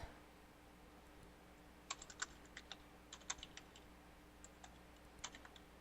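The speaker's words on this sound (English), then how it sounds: "I hear you typing." Typing on a computer keyboard, quiet scattered clicks in short bursts and single taps, close but faint over a low background hum with no talk.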